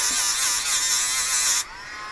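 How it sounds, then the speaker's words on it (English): A small linisher belt tool grinds a chamfer onto a metal lock pin, giving a steady high-pitched buzzing whir that runs continuously and then drops to a quieter hum near the end. "instead of filing, I use this little linisher tool because it allows me to get those little push chamfer on the actual pin"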